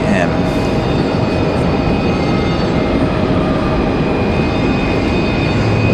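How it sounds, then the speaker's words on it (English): A Delta Connection Embraer E175 regional jet moves at Raleigh Durham International, a steady, moderately loud engine drone with a faint whine and a voice briefly heard. "Looks like we got a Delta connection on the move, an E175."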